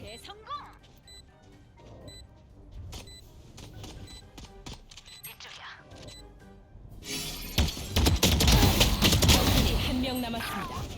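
Rapid bursts of video game gunfire from a weapon with the Singularity 2.0 skin crackle in quick succession, growing louder and denser toward the end, with talking underneath.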